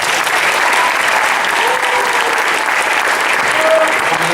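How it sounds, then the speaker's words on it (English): Audience at a school sports recognition ceremony gives the team another round of applause, loud steady clapping that fills the whole few seconds with no pause. "Please give them one more round of applause."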